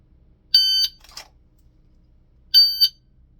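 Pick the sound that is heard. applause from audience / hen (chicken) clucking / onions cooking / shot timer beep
shot timer beep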